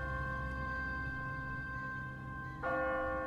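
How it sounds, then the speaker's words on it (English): A church bell tolls inside the video game The Walking Dead, its steady resonant strikes sustained and ringing out clearly, with a fresh strike near the end, and no voices over it. "No one's ringing that bell. It's automatic. On a timer. What kind of church bell goes off at 20 past the hour?"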